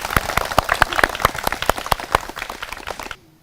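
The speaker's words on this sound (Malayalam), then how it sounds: "അതിന്റെ കയ്യടി മാഷിന് എന്തായാലും വേണല്ലേ" At an Onam celebration, a small group claps for the teacher in distinct, fairly sparse hand claps with an uneven rhythm, close and sharp, then stopping abruptly near the end.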